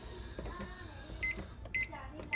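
A microwave oven heating frozen broccoli, with a steady low hum, a few sharp keypad beeps and a person talking quietly nearby.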